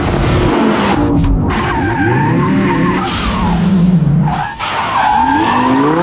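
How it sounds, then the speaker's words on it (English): A Lamborghini fitted with a hydraulic handbrake drifts around a car park, its tires letting out loud, close, sweeping squeals and skids over a roaring engine, with a brief dip before the screech picks up again. "Drifted around the car park."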